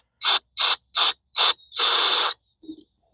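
Carb cleaner sprayed into a self-propelled lawn mower carburetor in four short, loud bursts followed by one longer hiss, close up.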